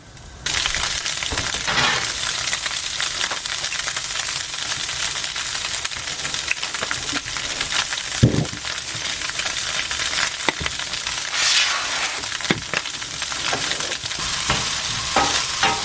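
Food fries crisply in a pan: a loud, steady close-up sizzle and crackle runs throughout, with occasional scrapes and taps from a utensil and no speech.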